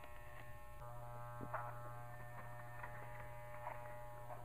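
Electric clippers buzz in a steady, even drone while a pet is groomed, a continuous motor hum running unbroken from start to finish at moderate, close level.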